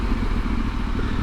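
A Yamaha Tenere 700 motorcycle on knobby tires holds a wheelie, its engine a steady, loud mid-pitched drone with faint mechanical clatter running the whole time.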